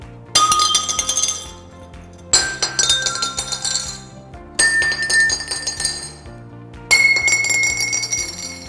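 Four metal rods of different lengths are struck one after another, each ringing out with a bright clang that decays slowly, the pitch changing from strike to strike.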